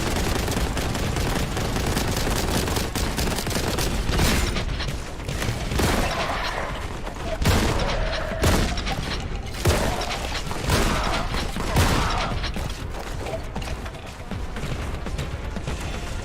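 Relentless rapid gunfire and booming explosions from the Warhammer 40k Boltgun video game, a dense, loud, continuous barrage of shots with mechanical clanks, no talking.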